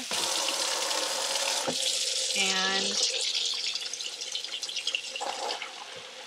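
Water gushes steadily from a tap into a basin, very cold water for a wool wash with a few drops of soak wash, a close, hissing splash that fills the space, with a brief word of speech over it.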